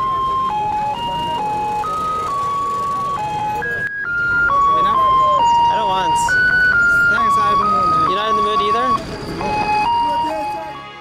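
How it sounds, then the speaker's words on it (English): Afghan ice cream vendor music in Kabul: a loud, near, looping electronic melody of bright single tones stepping up and down, playing continuously with a brief dip midway. "I love the Afghan ice cream music."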